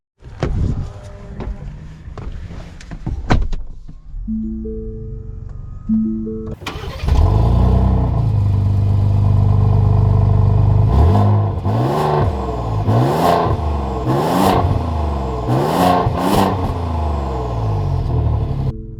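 Lincoln Navigator Black Label SUV starting up, then pulling away and accelerating, its engine rising in pitch through several revving surges, loud and close, with no talk.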